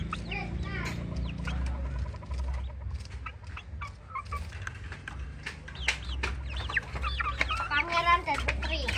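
Chickens clucking nearby alongside quail, with repeated bursts of clucks and squawks over a low background hum while people talk intermittently.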